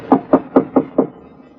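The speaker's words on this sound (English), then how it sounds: "I went up to the door and knocked." Five evenly spaced knocks on a wooden cabin door of a poor family's home in a radio drama, crisp and close, with no talking.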